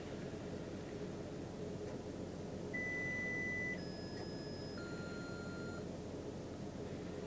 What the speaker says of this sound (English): And I love the beeping noise.